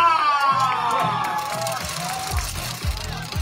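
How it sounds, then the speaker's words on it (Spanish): A studio audience at a televised reality competition cheers, whoops and shouts, with a few claps mixed in. The crowd noise is loud and close, and voices call out over the cheering. "fuerte el aplauso para Alonso Chico"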